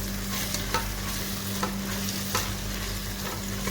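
Chicken and onions frying in a pan on a stove, stirred with a spoon that scrapes and taps at intervals over a steady sizzle and a low constant hum, no talking.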